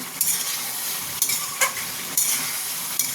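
Chicken and tomato sizzling and being stirred in a frying pan during kosha sautéing, a steady hiss with several sharp scrapes of a spatula, close and alone without talk.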